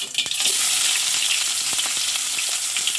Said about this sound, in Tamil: கடுகு கொஞ்சமாக சேர்த்துட்டு வெங்காயம், பச்சை மிளகாய் சேர்த்துக்கிடலாம்